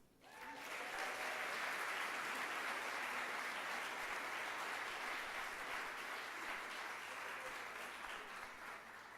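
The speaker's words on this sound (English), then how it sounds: "Let's give a big round of applause to all of those celebrating 20 years of service." Convocation audience in a hall breaks into sustained applause for staff marking 20 years of service, a broad, even roar of many hands that rises quickly and stays full, with faint voices underneath.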